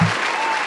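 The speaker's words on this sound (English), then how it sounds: "Can we get a hand clap for that, Z, please?" An audience breaks into a dense burst of hand claps, loud and close, sustained through the moment with a brief voice at the very start.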